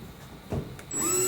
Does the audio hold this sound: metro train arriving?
no